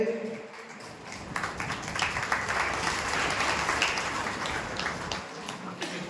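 An audience at a school seminar in Surat claps for a student and his parents, sustained applause with dense overlapping hand claps building and then tapering off, steady and moderately loud.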